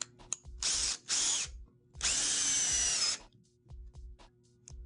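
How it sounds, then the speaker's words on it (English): A power drill pre-drills holes in an Azek composite deck board before face screwing, two whining bursts of drilling, the second longer, separated by quiet gaps with faint clicks. "With composites, it's usually required that you pre-drill before you face screw."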